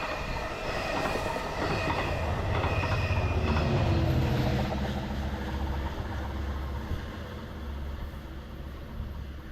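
A Long Island Rail Road diesel train rolls past, its engine rumble and wheel clatter loud and steady, swelling toward the middle and easing off as the cars continue by.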